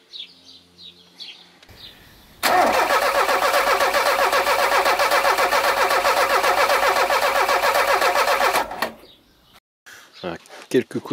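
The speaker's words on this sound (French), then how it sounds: "quelques coups de démarreur" Starter motor cranking an Alfa 33 engine during a restoration, a steady loud whirring churn lasting about six seconds without catching, between quieter moments with birds and small handling noises outdoors.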